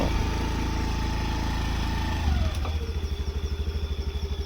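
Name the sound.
Honda Activa scooter being ridden around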